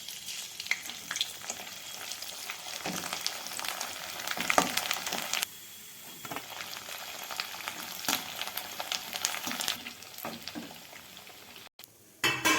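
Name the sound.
avalakki (flattened rice) sticks deep-frying in oil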